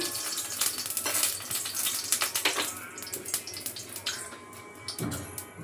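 Okra-flavoured oil goes into a pan for a Marathi home-style vegetable dish, giving a steady hiss and crackling sizzle with wet, splashy bursts, close and moderately loud throughout.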